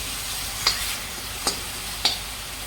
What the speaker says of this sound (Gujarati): હવે આપણે આમાં આદુ મરચાંની પેસ્ટ એડ કરી દેવાની છે અને સરસ રીતે તેલમાં સાતળી લેવાની છે 10 થી 15 સેકન્ડ માટે.